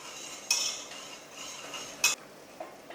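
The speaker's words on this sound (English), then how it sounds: "we're going to add in 4 tablespoons of flour, and this is all-purpose flour, and we're just going to give this a quick mix." A utensil stirs all-purpose flour into heated olive oil in a pot, making two sharp metallic scrapes and clinks against the pot, with quiet scraping between them and no talking.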